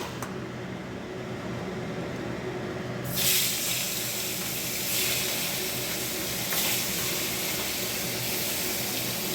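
Hilsa and rohu fish heads frying in hot oil, a constant dense sizzle that swells sharply a few seconds in and keeps up a loud, steady hiss with slight surges.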